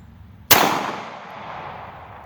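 A CZ 75 SP-01 Tactical pistol fires one close, loud shot with a sharp crack and a long reverberant tail fading over about two seconds, with no other sound.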